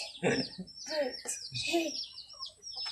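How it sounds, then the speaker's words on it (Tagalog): Birds chirp in a few short, bright bursts close by, mixed with what sounds like a voice speaking between the calls. "Just birds!"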